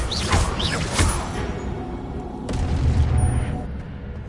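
An Incendio fire spell bursts in a Harry Potter video game, a booming blast with whooshing swells and a second rumbling surge, close and loud.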